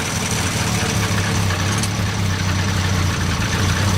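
A Crosley car engine idles steadily and close by, running a bit rough on bad gasoline, with a constant low rumble that holds through the whole stretch and no voices over it.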